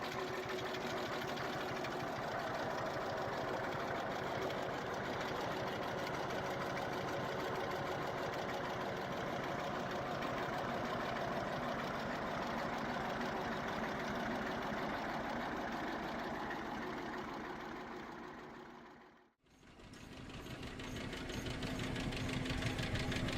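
A vintage Deutz diesel tractor engine runs with a steady, dense knocking chug, loud and continuous, cutting out abruptly for a moment near the end before resuming.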